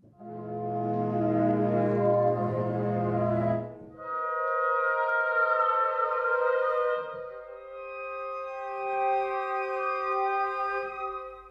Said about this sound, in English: And let's listen to the woodwinds.